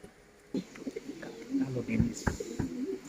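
Black Danish pigeons coo softly in low, throaty bursts, several calls overlapping close by, alongside a flock's rustling background.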